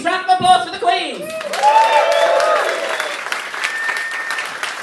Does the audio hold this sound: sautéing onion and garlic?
no